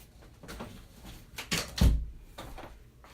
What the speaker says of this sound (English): I'll shut my door.